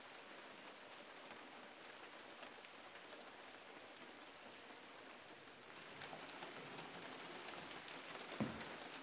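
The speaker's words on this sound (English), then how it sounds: "Well, raining again." Steady rain falls on an off-grid cabin under construction, a dense even hiss with scattered droplet ticks, growing slightly heavier and closer near the end.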